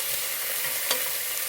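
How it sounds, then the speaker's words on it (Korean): Onions stir-fry in sesame oil over low heat with a steady soft sizzle and one brief stir or clink near the end, no talking. "양파 볶고 있고요"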